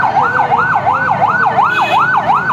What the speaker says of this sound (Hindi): फायर ब्रिगेड की गाड़ी है